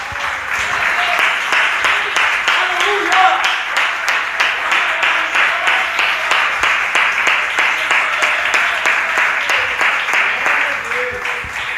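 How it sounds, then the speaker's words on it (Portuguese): Church congregation clapping together in praise at a Christian service, a loud, dense, continuous round of many hands with a faint rhythmic pulse, lasting throughout without speech. "vamos aplaudir a Ele com palmas de vitória"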